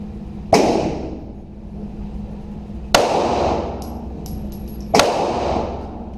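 Three sharp gunshots from a target acquisition shooting drill, the first alone and then a pair about two seconds apart, each a loud crack with a ringing decay over steady background hum.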